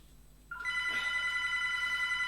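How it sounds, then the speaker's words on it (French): A telephone bell starts ringing after a quiet moment, a bright sustained electronic ring that continues to the end, loud and close with no talk. "Caro, téléphone, putain."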